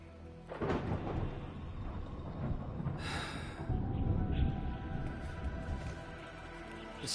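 Thunder rumbles through steady rain in the Arknights Endfield game, a loud rolling crack breaking midway over a continuous wash of falling rain, no voices.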